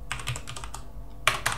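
Keys clacking on a computer keyboard while code is typed, a quick run of close, crisp keystrokes, a brief pause, then a few sharper taps.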